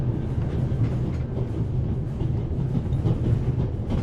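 Train rolling on rails in the video game The Raven: Legacy of a Master Thief: a steady, low, close rumble with a faint rhythmic clatter, continuing without a break.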